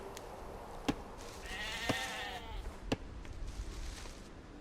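Several sheep bleat in Age of Empires II, a few short quavering calls spaced about a second apart over soft game ambience, fairly close and clear with no talk.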